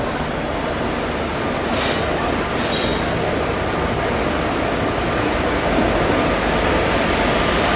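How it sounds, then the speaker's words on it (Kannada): A WAG 7 electric locomotive rolls past near Vadodara railway station in India, a steady loud rumble of wheels and rail clatter with brief higher squeals, continuous throughout. "ಇಲ್ಲಿ ನೋಡಿ WAG 7 ಇಂಜಿನ್ ಬರ್ತಿದೆ"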